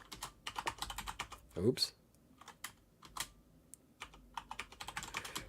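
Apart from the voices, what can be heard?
typing a password on a computer keyboard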